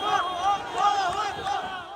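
A huge crowd shouts and chants outside a car carrying hostages in Gaza, a dense wash of many raised voices rising and falling continuously at moderate distance.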